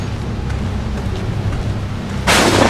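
Rain and a low thunder rumble fill a stormy scene in the horror game Outlast 2, with a sudden loud burst of rushing noise near the end.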